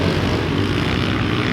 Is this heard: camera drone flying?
yes